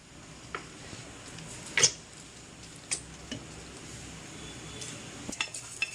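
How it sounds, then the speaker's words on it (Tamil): A metal kadai is set on a stove to make a sardine curry, giving one distinct clank followed by a few lighter taps and clinks, close but fairly soft against a steady low room hiss. "ஸ்டவ் ஆன் பண்ணிவிட்டு கடாய் எடுத்து வச்சுக்கலாம்"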